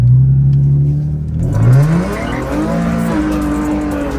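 Flame-tuned Infiniti G37 sliding through a turn, engine droning then rising as the tires squeal in a long, loud, wavering screech that carries on to the end, with no talking.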